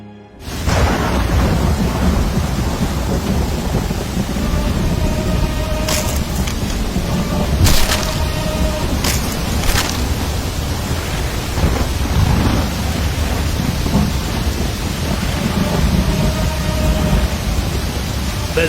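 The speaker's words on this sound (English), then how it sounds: "There's been a tumultuous rain, and it has flooded the whole area." Heavy torrential rain pours down in a steady loud roar, and several sharp cracks of thunder break through it in the middle stretch, with no voices.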